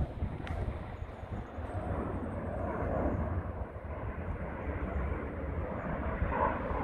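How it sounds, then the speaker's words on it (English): An airplane flies overhead outdoors, its steady broad engine roar rising and falling slightly, mixed with some wind buffeting on the microphone and no talking. "Another plane over there."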